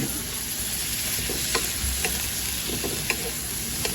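Kangkong sautéing in a pan is stirred with a utensil, and a steady close sizzle runs under scattered scraping clacks that come every second or so.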